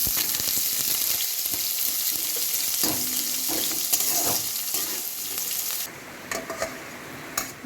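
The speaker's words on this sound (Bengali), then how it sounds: "আমি এটা এখন পেঁয়াজ দিয়ে একটু ভালো করে ভাজা ভাজা করে নিয়ে" Onion and lentils frying for khichuri, crackling and sizzling up close as they are stirred, with a few spoon scrapes, before the hiss softens near the end.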